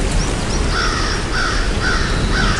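A crow caws repeatedly, four or so harsh calls spaced evenly over a constant background hiss of rain, moderately close, with no talking.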